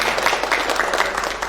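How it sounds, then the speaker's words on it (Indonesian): Audience applause at a university communication department's ninth anniversary celebration, a dense steady wash of many hands clapping at even loudness throughout, with no voices over it. "Oke, tepuk tangan untuk semua."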